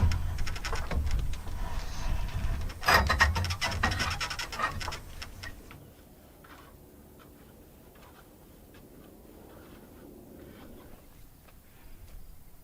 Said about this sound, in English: So we got our bumper boards in place for safety. And we'll just bring the truss over, hopefully.